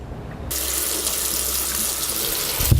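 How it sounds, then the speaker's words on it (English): A faucet starts running with a sudden onset, then pours in a steady splashing hiss, and a soft knock comes near the end. "if I leave my faucet running for 1 minute while I'm brushing my teeth"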